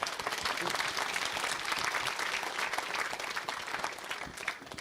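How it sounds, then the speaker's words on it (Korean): Audience applause at a traditional hanok hotel setting, a dense and steady clapping that stays loud and even for the full five seconds. "박수 치십시오"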